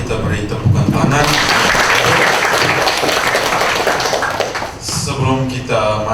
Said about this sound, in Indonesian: Mari kita beri tepukan tangan.